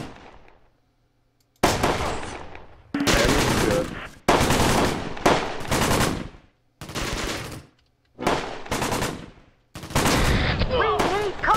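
Gunfire in the wargame Close Combat: Gateway to Caen, arriving as repeated loud bursts of automatic fire separated by short silent gaps, with a voice over some of the shooting.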